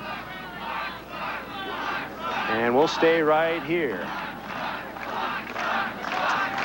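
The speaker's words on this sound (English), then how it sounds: "the crowd is fired up here" Crowd at a 1991 AVP beach volleyball semifinal in Chicago cheering and shouting loudly and steadily, with a commentator talking over the roar.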